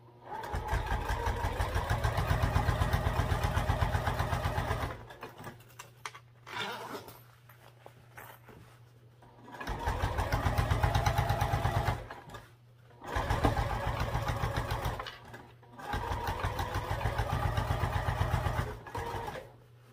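A sewing machine top stitches a backpack at 1/8 inch, running in several close, steady bursts of rapid rhythmic stitching, each a few seconds long, with quiet pauses between as the fabric is turned.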